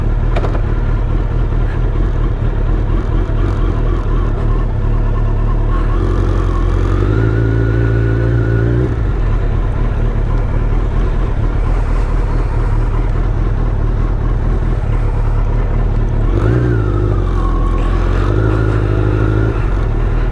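A 2005 Suzuki GSX1300R Hayabusa ridden on the road, its engine loud and close throughout, with wind roar, steady cruising drone and a couple of rising revs as it accelerates.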